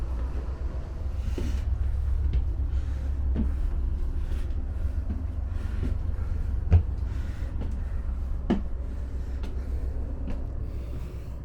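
Inside an Amtrak Southwest Chief coach train running between Chicago and Los Angeles, a steady low rumble of motion carries on throughout, with scattered faint clicks and knocks from the carriage.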